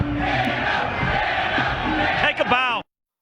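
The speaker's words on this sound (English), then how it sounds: "the crowd chanting Dan O behind you" A large football draft crowd chants and roars loudly in a dense, continuous wall of voices, then cuts off abruptly.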